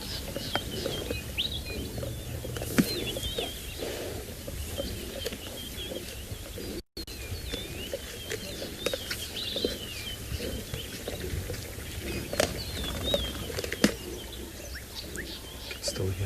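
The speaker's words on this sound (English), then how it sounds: "Still hear some of the birds chirping off in the distance." Faint birds chirp off in the distance at sunrise on a South African safari, repeated thin calls over soft rustling and chewing noises close by.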